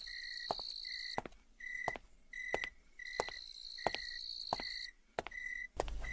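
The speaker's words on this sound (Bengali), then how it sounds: "ঝিঝি পোকার আওয়াজ আসছে" Cartoon crickets chirping on a moonlit night in open fields, a steady repeating series of bright electronic-sounding chirps in short bursts, with brief pauses between groups, heard alone without voices.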